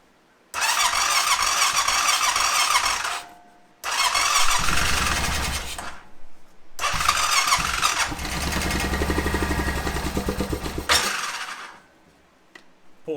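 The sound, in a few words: Honda Rincon ATV engine cranking, trying to start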